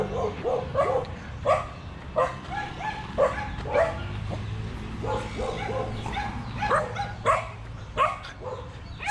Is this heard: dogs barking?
yes